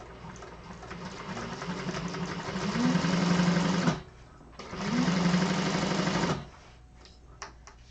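Sewing machine running in two sustained bursts, stitching around a seam with a 3/8 inch allowance, with a short pause between runs and a steady, fairly loud whirring hum throughout.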